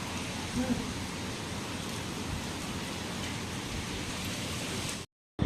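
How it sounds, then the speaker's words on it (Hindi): Heavy rain pours down outside a balcony in Kolkata, a dense, steady hiss that stays constant and fairly close before cutting off abruptly near the end. "वर्षा देखो बहुत जोर से होदला"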